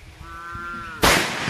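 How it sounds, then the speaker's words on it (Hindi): A firecracker bursts during a village Diwali celebration: one sharp, loud crack that follows a brief thin tonal whine and then fades into noise. "तो देखिए यहाँ पर लगा रहे हैं पटाखा"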